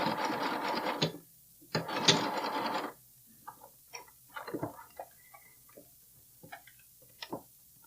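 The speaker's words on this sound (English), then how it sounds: "back stitch all the way across." Back stitching along a bralette edge, a sewing machine gives two loud, steady whirring runs, then a string of soft clicks and ticks as the handwheel and fabric are adjusted.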